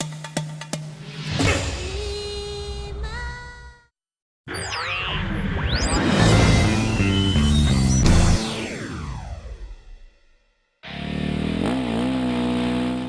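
KTM motocross motorcycle racing at a Grand Prix in Pleven, Bulgaria, the engine revving and shifting through rising and falling pitches, loud and close, with short breaks of silence between bursts.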